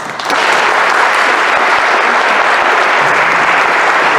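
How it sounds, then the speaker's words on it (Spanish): Warm audience applause at a formal ceremony of the Escuela Preparatoria de Jalisco, steady dense clapping that starts abruptly and stays loud and even throughout. "lo vamos a recibir con un caluroso aplauso"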